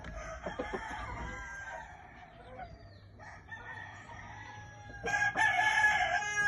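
A fighting rooster crows loudly and close, with clucking and other fowl calls around it, the crows rising in stretched bursts toward the end.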